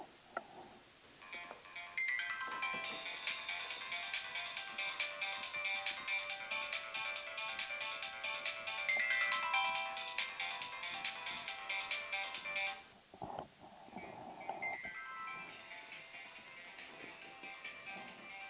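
A mobile phone ringtone plays a long, steady electronic melody at close range, pauses briefly, then starts again, with little else around it.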